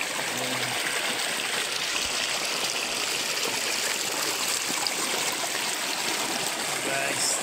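Steady rushing water fills the scene, a continuous broadband wash from a waterfall and flowing stream, close and constant with no pauses.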